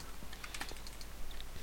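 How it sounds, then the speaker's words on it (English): Computer keyboard typing during a Minecraft play session, a quick cluster of sharp clicking keystrokes under background game sound, fairly faint and close. "Oh, that's my keyboard."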